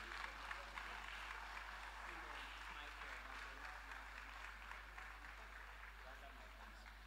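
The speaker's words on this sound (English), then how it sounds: "With a round of applause, let us welcome Dr. George Agyekum Nana Donkor." Steady applause from an audience welcoming a speaker at an anniversary memorial lecture, continuous and fairly even throughout with a low electrical hum beneath it.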